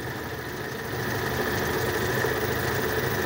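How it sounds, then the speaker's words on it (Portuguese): A 1994 Fiat Uno Mille Electronic with its original 1.0 engine idles steadily, a smooth, even hum heard up close with no talking. "Olha a marcha lenta, galera."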